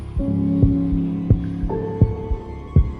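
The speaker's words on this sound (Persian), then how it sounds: "ضربان قلبم بالا رفته بود" A heartbeat sound effect pulses under a low, steady hum, with heavy thumps arriving in pairs about every second and loud enough to dominate, alone with no voices.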